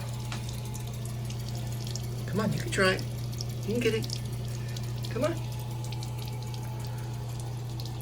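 A tap runs steadily as a dog drinks fresh water from it, a constant close hiss of flowing water beneath a person's encouraging speech.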